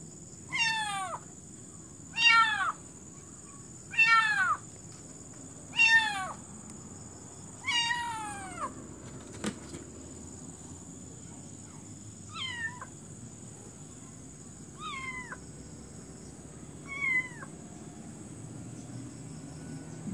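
A kitten meows about ten times, high, thin cries spaced a couple of seconds apart that grow fainter and shorter toward the end, over a steady hiss of background noise.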